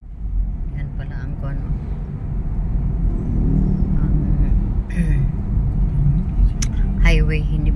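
A car cruises along a lightly trafficked highway, with a loud steady road rumble and engine drone filling the cabin while people talk over it.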